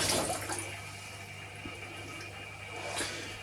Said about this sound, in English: let's wash my hands, guys.